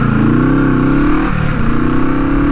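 A vintage Honda parallel-twin motorcycle engine revs loudly and up close, its steady drone rising and falling in pitch through a couple of throttle blips without pause.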